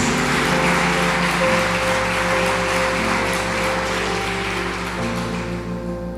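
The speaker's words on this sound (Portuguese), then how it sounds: "Aplauda o Senhor Jesus por um dia isso." A church congregation applauding in a large hall, a steady broad wash of clapping that holds evenly throughout and fades slightly at the end, with sustained organ-like tones beneath it.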